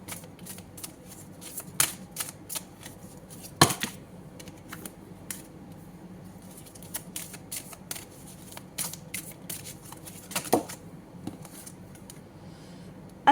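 Tarot cards shuffled and handled at close range in a fortune-telling reading, a run of quick papery riffles and snaps, dense in bursts with short gaps, a few sharper slaps standing out.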